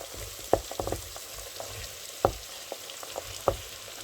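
Green beans tipped into a sizzling pan with peppers and flour, giving a steady fry hiss broken by three sharp stirring clatters, close and fairly quiet with no talk.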